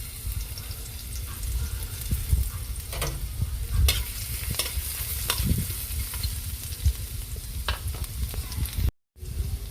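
Garlic sautéing in cooking oil in a home kitchen pan, with a steady close sizzle and occasional scrapes of a stirring utensil; a brief dropout near the end.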